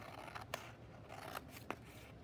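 Scissors cutting paper warp strips from the fold for paper weaving, three or four quiet close snips spaced apart against a faint background.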